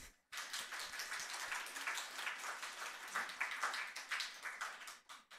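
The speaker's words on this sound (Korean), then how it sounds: "박수 한번." Audience clapping after a middle-school student's piano performance in a church, a dense, fairly soft patter of many hands that begins abruptly and fades near the end.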